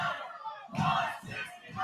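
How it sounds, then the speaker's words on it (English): A live pro wrestling crowd at an OVW show in Louisville, Kentucky roars and chants in surging waves, loud and full, with no commentary over it. "Listen to this crowd."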